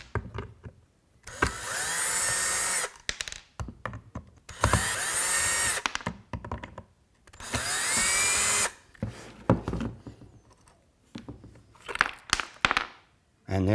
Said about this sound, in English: I'm going to take these 4 screws out of the base here, just take that out, and then put the base right back on again